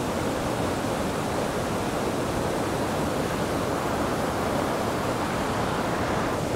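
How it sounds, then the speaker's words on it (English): Two waterfalls pouring off a V-shaped rock in a wet, rocky gorge, a steady, loud, unbroken roar of falling water with no voices heard. "a photograph of a nice V-shaped rock and two waterfalls coming off it"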